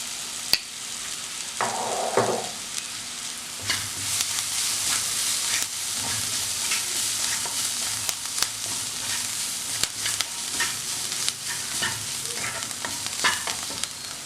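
Chili pieces frying in a pan with oil, a steady close hiss and sizzle broken by frequent scraping and clicking stirs over several seconds.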